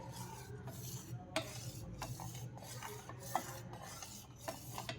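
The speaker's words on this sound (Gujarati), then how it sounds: "હવે આપણે આ ઉકળતા દૂધમાં કસ્ટર્ડવાળું આપણે આ ગોળ તૈયાર કરેલું છે વેનીલા કસ્ટર્ડનું એ આપણે એમાં એડ કરશું અને સારી રીતે હલાવીને મિક્સ કરી દેશું।" A spoon stirs vanilla custard mix into boiling milk in a pot, a steady scraping, swishing rustle with a few sharper clinks against the metal, close and continuous with no talking.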